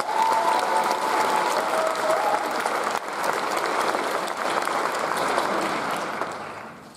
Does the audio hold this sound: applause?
yes